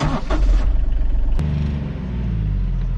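A farm vehicle's engine rumbles loud and close while a child drives it, with a rough throbbing start that settles into a steady idle after a sharp click.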